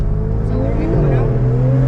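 A car at a South Florida car meet revs hard and close, its loud engine drone climbing steadily in pitch through the second half, with low background voices underneath.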